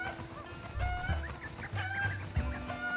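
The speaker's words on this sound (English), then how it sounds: "Why are all these cuckoos back out?" Cuckoo chickens in the video game The Legend of Zelda: Breath of the Wild cluck repeatedly in short, overlapping bursts, with a few bird-like calls over a steady game background and no voices.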